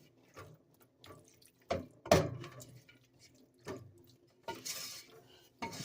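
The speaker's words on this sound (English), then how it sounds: "I'm just going to give it a stir." Alfredo cream sauce and spaghetti are stirred in a pot, giving scattered clinks and scrapes of a utensil against cookware with soft wet sloshing, close and fairly quiet, with no talk.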